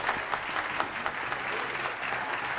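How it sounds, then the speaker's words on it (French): Studio audience on a French television talk show breaking into lively clapping, many hands close and fairly loud, a dense burst with sharper individual claps standing out, with no talk over it. "Applaudissements, s'il vous plaît."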